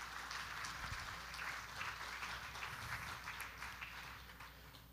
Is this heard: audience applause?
yes